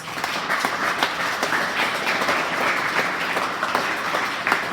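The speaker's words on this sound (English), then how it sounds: "And now let's give them a round of applause" An audience at a wrestling awards ceremony applauds with dense, sustained clapping that holds steady and fairly loud from start to finish.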